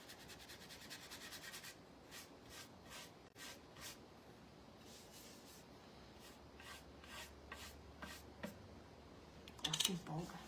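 A paintbrush is scrubbed back and forth against a wooden piece for a rustic paint effect, giving faint, repeated rubbing strokes close by.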